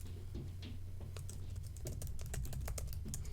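Rapid tapping on a computer keyboard, a quick irregular run of crisp clicks that grows denser midway, close and fairly quiet over a low background hum.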